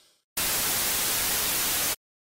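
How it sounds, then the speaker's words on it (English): A burst of flat broadband white noise from a synthesizer noise oscillator, about a second and a half long, switching on and off abruptly with silence around it. "a specific noise oscillator that will give you general broadband noise"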